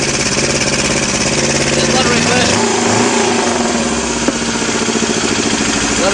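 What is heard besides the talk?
engine induction sound with reverse flow from the intake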